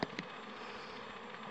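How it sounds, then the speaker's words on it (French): A swarm of honey bees regrouping, heard as a faint, steady buzzing drone that stays even throughout, with a couple of brief clicks at the very start. "donc là il y a de l'abeille qui se regroupe"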